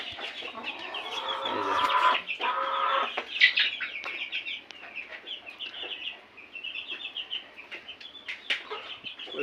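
Tiger and Fayoumi hens on a poultry farm cluck and chatter continuously, several birds overlapping in a busy, fairly close flock with occasional louder squawks and no talking.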